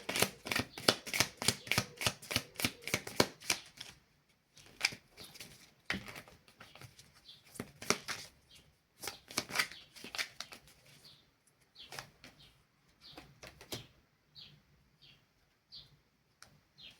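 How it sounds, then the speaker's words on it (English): Tarot cards being shuffled and pulled, with quick riffling bursts and fluttering flicks at close range, then scattered softer slides and taps as individual cards are drawn. "Let me pull a few more cards."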